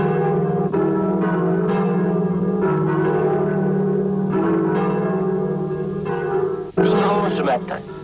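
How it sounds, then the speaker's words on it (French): Church bells in Winterslag toll in slow, repeated strikes on a Sunday morning over a low steady hum, with a brief voice near the end. "Dimanche matin, les cloches appellent les participants du cortège"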